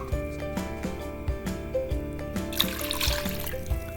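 Water pours steadily into a pot holding garlic cloves and whole cloves, a continuous close trickle over a background hum that grows into a brighter splashing rush near the end.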